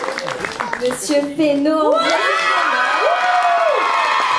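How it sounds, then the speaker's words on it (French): Audience cheering and applauding for performing artists on a TV show, shouts and whoops rising over clapping after a short spoken introduction, then continuing loud and lively under a voice. "On l'applaudit bien fort, s'il vous plaît."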